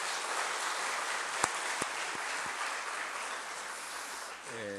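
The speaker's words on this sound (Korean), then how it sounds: "우리 다시 한번 큰 박수로 축하해 주십시오." A church congregation at a Sunday service baptism applauds in a sustained, even wash of clapping, a few louder knocks rising briefly, and a voice begins speaking just as it ends.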